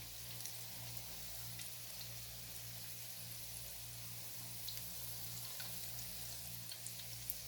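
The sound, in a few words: corn cheese samosas frying in oil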